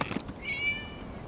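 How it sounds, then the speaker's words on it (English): A cat meows once in the video game Genshin Impact, a short, thin, drawn-out cry rising out of a soft background hum, alone with no voices. "It was just a cat."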